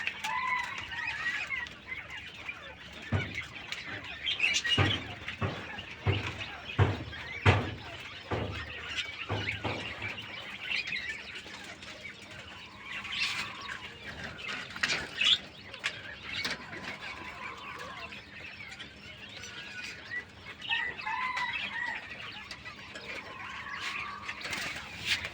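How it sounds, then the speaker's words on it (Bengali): King quails in a small breeding farm, giving repeated clucking and piping calls with sharp bursts that come and go over a steady, busy background of birds for the whole stretch. "সুন্দর মানের কিং কোয়েল পাখি।"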